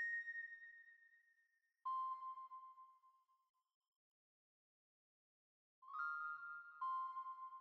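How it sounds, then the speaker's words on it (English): A bell one-shot sample from a music production session rings out in clean tonal strikes: a long decaying note, a second lower one, then after a silence a brighter double strike, close and quiet with no voices. "Then we got this bell."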